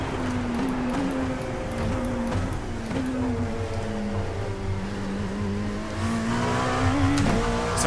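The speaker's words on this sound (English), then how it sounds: "now just sit back and listen to this engine purr as we go all the way up to 200 miles an hour." A Dallara P217 LMP2 race car in iRacing accelerates hard toward 200 mph, its engine note climbing steadily through the gears with brief shift dips, loud and continuous with no talking.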